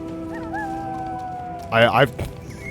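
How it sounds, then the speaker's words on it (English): The lustrous dog in the Final Fantasy XIV Endwalker video game gives a short rising howl, then a louder, wavering yelping burst near the end, heard over a soft, steady game background tone. "Follow the lustrous dog and try not to fall behind."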